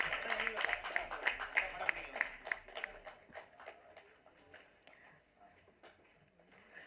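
A crowd applauds for debut hero Jerome Vijay at the Madurai 16 film's audio and trailer launch: dense, fairly loud clapping that thins and fades over the seconds.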